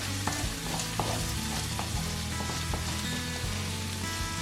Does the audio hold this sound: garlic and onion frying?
yes